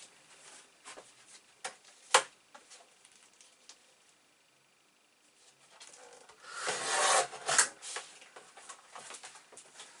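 Paper for an 8 x 10 mini album is trimmed to size, giving quiet close rubbing and scraping with a few sharp snaps and a louder rasping cut near the end, with no talking.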